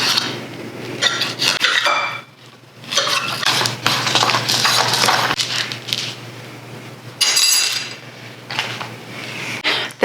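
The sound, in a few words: cutting food with a curved knife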